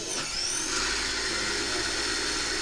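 A sidewinder slot car motor running on a 10-volt bench supply, a steady high-pitched whine with a brief rising pitch at the start, close and continuous with no speech.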